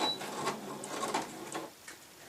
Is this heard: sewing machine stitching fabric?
yes